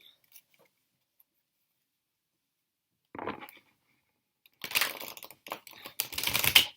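A deck of reading cards is shuffled by hand, with a brief soft riffle, a pause, and then a longer, louder run of quick papery flicks and taps, close by, with no talk.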